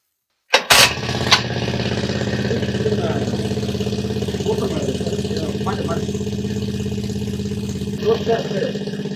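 Engine of a slurry supply machine for an areca nut plantation cranks with a sharp burst, then settles into a steady, loud, close idle running on alone.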